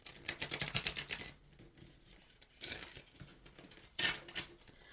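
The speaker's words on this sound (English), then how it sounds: "I was told to shuffle it again." A tarot card deck being shuffled by hand in quick riffling bursts, with crisp papery flutters at the start and two shorter shuffles later, close and fairly faint.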